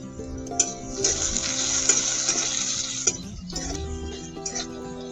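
Potatoes seasoned with turmeric and salt fry in a pan, with a constant sizzle broken by scraping stirs of a spatula, close and fairly loud.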